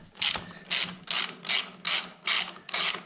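Rapid ratchet clicking in bursts, about seven even strokes, as a ratchet wrench backs a nut off a Honda XR 125 L motorcycle; close and clear with no talk.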